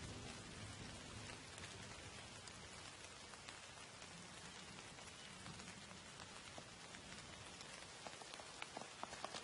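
Steady, dense rainfall pattering on surfaces in the Kurdistan mountains, a continuous hiss with scattered drop impacts, no voices.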